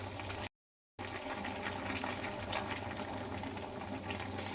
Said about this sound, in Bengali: এবার জল দিয়ে নিচ্ছি